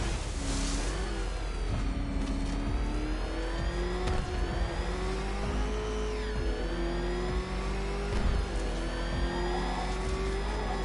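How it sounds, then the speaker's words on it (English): The Batmobile's engine in Batman: Arkham Knight revs and roars steadily, pitch rising and falling as it accelerates, loud and close throughout with no talking. "Can that ramshackle motor handle this?"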